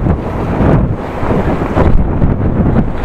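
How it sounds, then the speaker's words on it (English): Heavy wind buffets the microphone while riding a bicycle into a headwind, a loud, constant low roar with gusty swells and no voices. "Right up into the wind."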